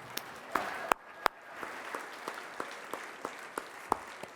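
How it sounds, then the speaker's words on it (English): Scattered, irregular hand claps at an awards show honoring the community members who made lacrosse a school sport, a dozen or so sharp claps standing out over a quiet room. "I'm going to clap for that."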